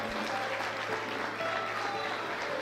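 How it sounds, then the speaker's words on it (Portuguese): Church congregation applauding steadily throughout, a dense wash of clapping with faint voices and a low hum underneath. "aplaudindo a Jesus, porque Ele é bom,"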